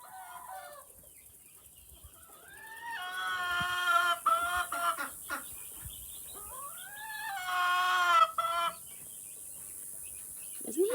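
A silkie rooster clucks and calls close by, with rising, drawn-out cries in two main bursts separated by short clucks and scratchy rustling, with no talking.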